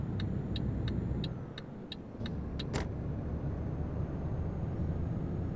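A truck in Euro Truck Simulator 2 pulls away from a standstill, its engine a low, steady rumble, with a series of evenly spaced clicking ticks over the first seconds and a brief burst near the middle, no voices.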